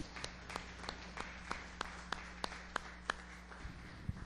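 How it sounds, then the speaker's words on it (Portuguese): A church congregation gives a round of applause to the Lord during a sermon: evenly spaced, crisp claps in a steady rhythm, fairly faint over a constant low electrical hum, with no voices. "uma salva de palmas ao Senhor"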